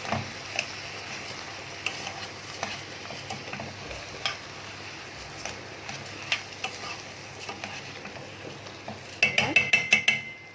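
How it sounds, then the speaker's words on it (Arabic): Rice stirred and sautéed with other ingredients in a pot for Egyptian koshari, a soft steady sizzle with repeated scraping strokes of a spoon and a quick run of clinking taps near the end, fairly quiet and close. "اهم حاجه التشويحه للرز يا جماعه عشان ما يعجنش مننا"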